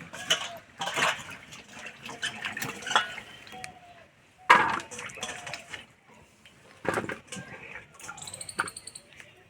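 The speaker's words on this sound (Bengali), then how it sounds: "আমি জল পাল্টিয়ে দু তিনবার পরিষ্কার করে ধুয়ে নেব" New potatoes are rinsed in water, several changes of water, with close sloshing, splashing and the knock of potatoes against the bowl in uneven bursts separated by short pauses.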